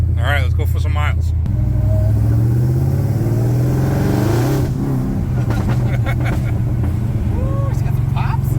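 Supercharged 426 HEMI engine in a Dodge Dakota, loud close rumble rising and falling under revs, with sharp crackling exhaust pops, and people talking over it.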